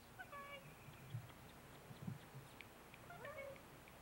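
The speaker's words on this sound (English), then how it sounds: "Of course, there's the cat." A cat meows several times outdoors at the Norris Botanical Gardens, faint rising-and-falling cries at the start and again near the end, with quiet low murmurs and background sounds between.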